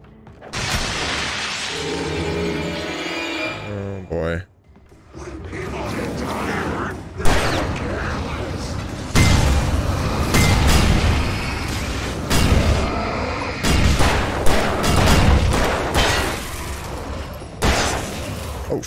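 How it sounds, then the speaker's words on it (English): A dense run of loud, crashing blasts and shattering bursts in the video game Alan Wake: The Signal, one after another with brief gaps, close and harsh throughout. "That was a lot of fucking explosions."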